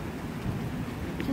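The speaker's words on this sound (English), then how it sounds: "We're getting rain again today." Afternoon rain during the Florida rainy season falls steadily as a soft, even wash of noise with a low rumble beneath it, heard up close and without speech.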